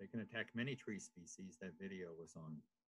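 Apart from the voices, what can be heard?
No everyday noise stands out behind the speech.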